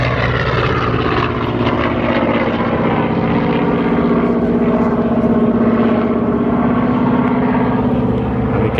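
Propeller airplane at an air show, its engine drone loud and continuous with a slowly shifting pitch as it passes, no voices heard.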